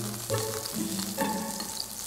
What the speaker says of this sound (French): la volaille, je la fais colorer